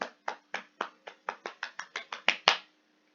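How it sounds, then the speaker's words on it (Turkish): About a dozen sharp, separate hand claps ring out alone in a quiet space, evenly paced at first and then a little quicker, with the last two louder before it falls silent. "Alkışlıyoruz."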